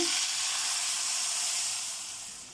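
Loud hissing sizzle as hot tempering is poured into boiling sambar, a steady bright spray of sound that slowly fades over a couple of seconds.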